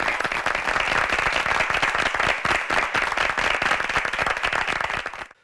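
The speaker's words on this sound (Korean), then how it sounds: "방청객 심사위원 여러분에게 박수 한번 부탁드리겠습니다" Studio audience at a high school debate competition show breaks into dense, sustained applause that stays loud and even for about five seconds, then cuts off abruptly.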